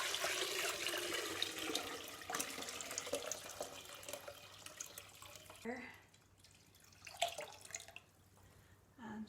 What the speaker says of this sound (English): Now I've got some water here, and we're just going to pour it to the fill line.